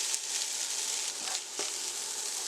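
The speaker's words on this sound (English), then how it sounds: "we are adding our smoked fish to this" Smoked trout with seafood seasoning and black pepper sizzling in a pan, a steady close frying hiss with a couple of brief stirring bursts, no talking.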